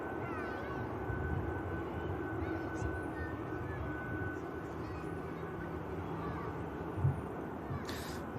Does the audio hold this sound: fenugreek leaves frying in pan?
no